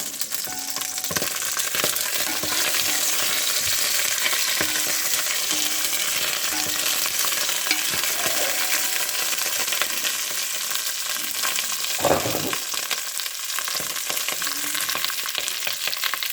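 Sausages and cabbage sizzle and fry in a pan while a wooden spoon stirs them, a steady close hiss with irregular scraping and clacking strokes, no talk.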